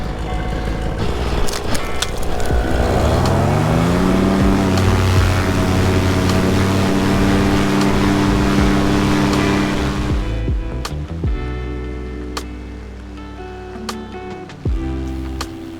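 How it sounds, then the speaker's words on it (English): A paramotor's propeller engine runs loud and steady, with a dense harmonic drone held at roughly constant revs for about ten seconds, then drops abruptly to a lower idle punctuated by sharp clicks and knocks. "it took me nearly an hour to get the engine started"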